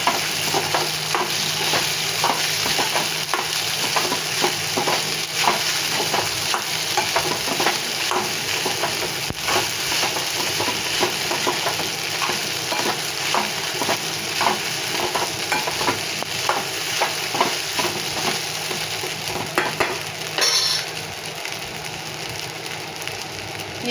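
Sabudana khichdi stirred in a pan, a steady scraping and swishing with soft sizzling running continuously and evenly throughout, close and moderately loud, no voices.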